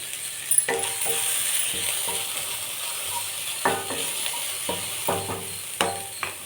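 Grated coconut with cinnamon and cloves frying in a pan for mutton curry, with a soft steady sizzle and repeated scraping clicks of a spatula stirring against the pan.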